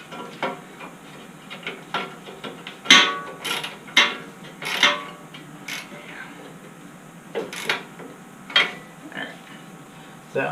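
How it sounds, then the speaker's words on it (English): Ratchet tightening valve cover bolts on a 196cc Baja Warrior mini bike engine, heard as scattered short clicking bursts and creaks at close range, spread irregularly across the span with quiet gaps between. "Tightening up the valve cover because it looks like it was leaking a little bit in the past."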